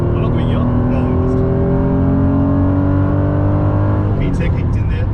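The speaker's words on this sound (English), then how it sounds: "VTEC kicked in there. Did you hear?" A Honda NSX accelerates hard in third gear, the engine note climbing steadily in pitch as VTEC engages, then easing off near the end, loud from inside the car with voices at the edges.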